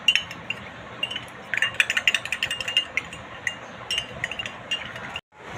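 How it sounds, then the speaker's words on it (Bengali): A spoon clinks rapidly and repeatedly against a small container while food colouring is stirred into milk for mutton biryani, light metallic taps at close range, irregular in rhythm, ending abruptly; no talking. "অল্প একটু ফুড কালার নিয়েছি, এই দুধের সঙ্গে মিশিয়ে দিচ্ছি"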